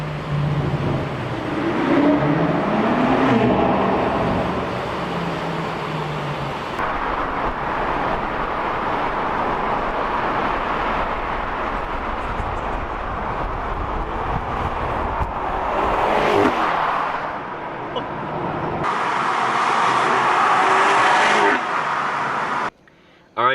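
A VW GTI Mk7.5 hatchback in heavy city traffic, its engine and exhaust droning steadily close by, with a few swells in revs and passing road noise around it.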